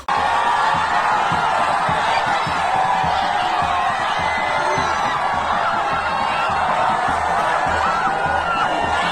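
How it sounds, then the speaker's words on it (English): Massive crowd at a political rally in Abakaliki fills the air with dense, continuous cheering, chatter and shouting, with a faint rhythmic pulse underneath. "massive fans turned out a massive style as they were still chanting his name"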